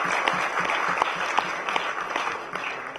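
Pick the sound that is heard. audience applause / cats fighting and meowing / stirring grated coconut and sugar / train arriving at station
audience applause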